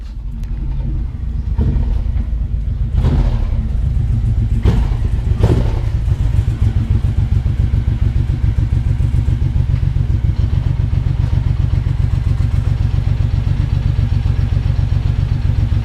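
A Suzuki Boulevard M109R motorcycle engine idles steadily nearby with a deep, low throbbing pulse, joined by a few sharp clanks and clatters early on before settling into a constant rumble.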